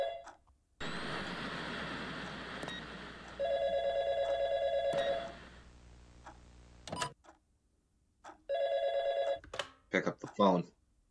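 An old-style telephone bell rings in the FNAF fangame The Dragon's Pizzeria, two loud trilling bursts separated by a pause, over a humming ambience, with clicks and brief noises between rings.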